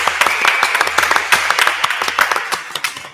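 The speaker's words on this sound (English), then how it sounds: "just for everybody to give themselves a round of applause" A community gathering in Birmingham gives a round of applause, a dense crowd clapping loudly and steadily with distinct sharp individual claps punctuating the wash, continuing for the whole stretch.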